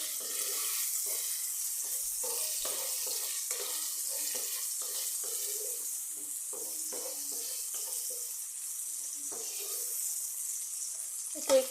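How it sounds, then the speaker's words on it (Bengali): Potatoes frying in a pan, a steady soft sizzle broken by scraping stir strokes with occasional faint clinks, close and fairly quiet throughout, with no talking. "এই দিয়ে ভাজবো দেখি।"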